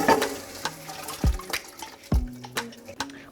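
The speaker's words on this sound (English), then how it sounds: "let's pour this into our broth" Cooked tomatoes are poured into the broth of a Vietnamese bún riêu noodle soup, giving close liquid splashes and glugs in several uneven bursts with quieter gaps between them.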